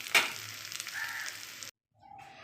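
Koi fish frying crisp in hot oil, a soft close sizzle with one sharp pop at the start, cutting to silence partway through before a faint crackle returns.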